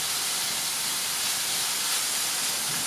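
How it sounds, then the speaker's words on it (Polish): Young cabbage scalds in steaming water in a home kitchen, giving a steady, even hiss of steam and bubbling that holds unchanged throughout, moderately loud and close, with no talk. "Kapusta mi się parzy."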